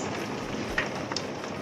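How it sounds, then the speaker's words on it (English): Steady rain falling in the Ace Attorney video game, a continuous soft hiss with a couple of faint brief ticks, no voices. "I think you can hear the rain."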